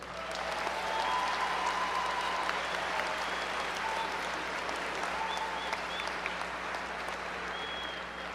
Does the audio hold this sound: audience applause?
yes